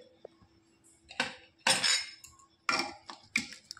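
A ladle scrapes and clinks against a pot of taro and potato curry, several distinct metallic stirring strokes close up with quiet gaps between them and no talk.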